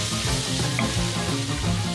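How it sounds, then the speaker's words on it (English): Buckboard bacon fries in a jambalaya pan with a dense, constant crackling sizzle, close and loud throughout, with faint stirring movement underneath. "I'll go ahead and throw my buckboard bacon in there as well right now."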